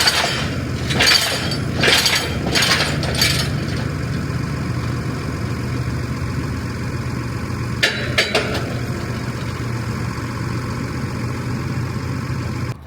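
A hydraulic tire changer works a rough-looking, worn tire in a shop, its hydraulics set high. Several loud cracking bursts come early over a steady motor hum, and a few more sharp snaps follow later, with no talk.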